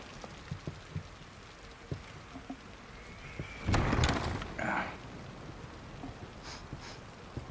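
Steady rain pattering on surfaces in the video game The Evil Within, with scattered drips and a louder rumbling burst partway through.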